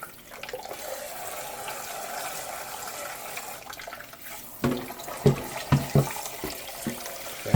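Water running from a tap in a steady stream, then splashing and sloshing in a series of uneven bursts as it fills and is poured, close and with no voices.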